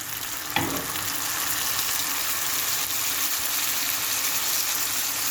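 Onions, peppers, garlic and tomato frying in a pan give a steady, close, dense sizzle throughout, with a brief louder crackle early on as something is added or stirred; no talking.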